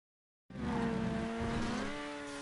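A race car engine in a GTA Online stunt race starts abruptly and holds a steady high-revving drone whose pitch shifts slightly as it carries speed, heard alone without commentary.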